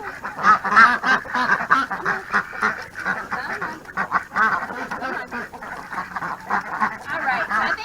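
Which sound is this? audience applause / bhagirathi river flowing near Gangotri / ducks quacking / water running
ducks quacking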